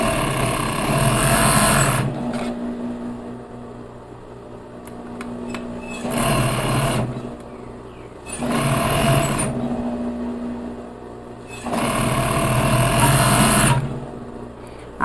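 A sewing machine stitches stretchy ribbed knit fabric for a cropped top, running in four loud bursts of rapid mechanical whirring separated by quieter pauses with faint handling clicks.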